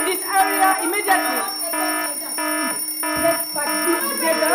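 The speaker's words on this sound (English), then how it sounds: "The fire alarm is on." A fire alarm sounds continuously with a steady tonal pattern of repeating beeps throughout an evacuation, while a voice talks over it.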